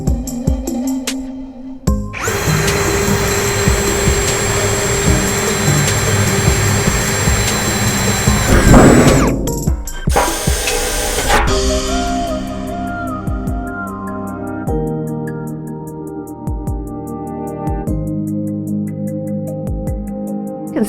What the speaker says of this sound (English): Make sure you're using both hands to drill into this.